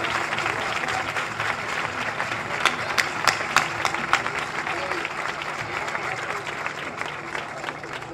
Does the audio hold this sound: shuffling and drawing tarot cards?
no